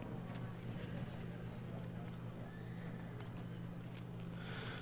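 Horses gallop in the Field of Glory II strategy game, a steady, dense drumming of hooves with occasional whinnies, continuous and fairly loud under the ongoing battle ambience.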